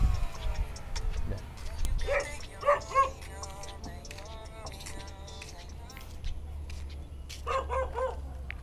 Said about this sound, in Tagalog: Hinahabol ako ng aso.